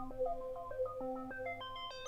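A preset on the Arturia ARP 2600-V software synthesizer, shaped by the mod wheel, plays a quick run of bright, bell-like tonal notes stepping up and down, fairly soft and heard alone.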